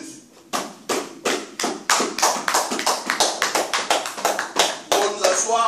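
A church congregation applauding Jesus, with many hands clapping together in a steady, even rhythm, loud and close, building into fuller applause near the end.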